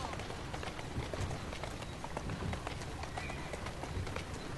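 A horse gallops in the Assassin's Creed Syndicate video game, its hooves clip-clopping in a fast, steady rhythm close by under a dense wash of in-game noise.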